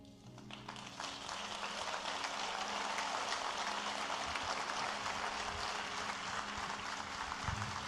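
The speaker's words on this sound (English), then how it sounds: "On l'applaudit encore plus fort." Steady audience applause fills the room from start to finish, a loud, sustained wash of clapping from a large crowd with no break.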